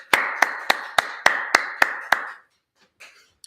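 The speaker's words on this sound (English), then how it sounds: "Let's clap that up." About nine sharp, evenly spaced claps from a small group, loud and close, ending abruptly, with faint scattered sounds afterward.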